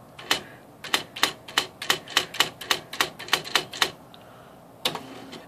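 An electronic typewriter set to 10 pitch types letters in a rapid, even run of about a dozen crisp, close strikes, then pauses before a single final keystroke.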